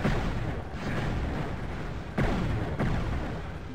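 Weapon fire in the video game Heretic: dense, loud booming blasts fill the whole stretch, with sharper impacts standing out near the middle and toward the end, and no talk over them.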